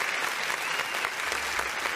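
Crowd applause for a performer at a Fête de la musique concert show with Chadian artists, a steady wash of clapping that holds evenly throughout, fairly loud and dense with no speech over it.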